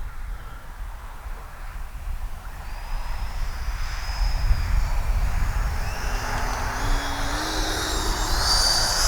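An E-flite Viper 90mm electric ducted-fan RC jet sweeps past low and slow with landing flaps out, its whine rising and swelling as it nears, heard from a distance over steady wind noise outdoors.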